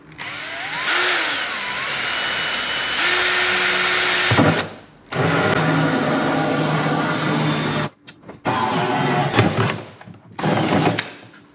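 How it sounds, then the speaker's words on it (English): A handheld power drill fitted with a hole saw cuts a roughly 230 mm hole in thin material for a cyclonic dust collector build: loud, sustained whining grind in several bursts, with brief stops and restarts toward the end. "Then we take the trusty drill with the saw in it."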